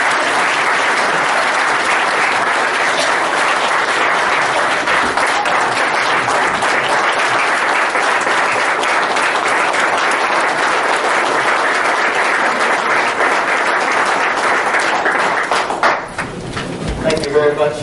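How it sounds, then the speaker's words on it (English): Sustained, loud applause from an audience honoring a retiring District 2 county supervisor, steady clapping that carries on for about fifteen seconds before tapering off into scattered claps. "let's just give him applause"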